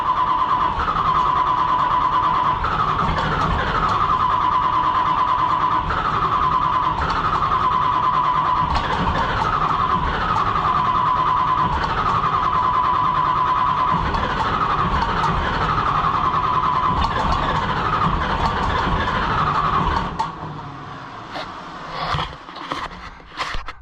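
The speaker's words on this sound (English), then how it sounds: "Cold start." A John Deere 2020 tractor engine cold-starting and running, a loud steady diesel drone with rhythmic pulsing that holds for about twenty seconds, then cuts out into scattered clunks and knocks.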